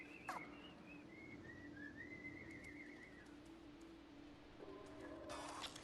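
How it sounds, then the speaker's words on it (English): A melodic human whistle behind a door in the video game Stray, a gliding, wavering tune lasting a few seconds over a low steady hum, followed by a brief mechanical rattle. "They were whistling in there."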